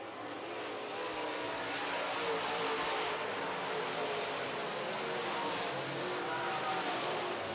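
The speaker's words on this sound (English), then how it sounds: "Ward Emery's found a little traction in the bottom of turn 1 and 2" Modified race cars run a heat on an oval track, their engines a dense, continuous roar heard at a steady moderate distance with no break.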